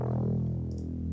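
Synthesizer layer built from a basic sine preset, a steady sustained tone with a strong low fundamental and stacked harmonics, held evenly for about a second with a couple of faint clicks near the end.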